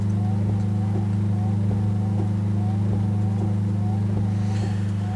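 A Peterbilt 351 truck engine in Euro Truck Simulator 2 cruising at a steady drone, loud and continuous low rumble with a faint rhythmic pulse, while someone talks over it.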